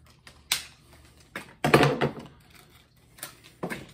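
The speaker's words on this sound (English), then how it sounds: "I'm going to cut the tags off it real quick" Scissors snipping the tags off a cheap five-dollar clamp, giving a few short, crisp snips and clicks close by with quiet gaps between them.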